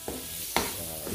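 Garlic sautés in a heated kawali with a steady sizzle under two or three scraping stir strokes of a utensil, all close by.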